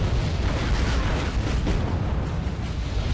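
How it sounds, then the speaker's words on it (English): Artillery pounds a wooded area in the Wargame strategy game, a dense, continuous rumble of overlapping explosions with no clear gaps between the blasts. "that artillery is just tearing those woods apart"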